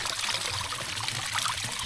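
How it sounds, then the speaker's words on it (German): Cold, clear mountain spring water runs steadily into bottles being filled, a continuous close trickling and splashing without pauses or talk. "Jetzt werde ich natürlich erstmal die Flaschen auffüllen."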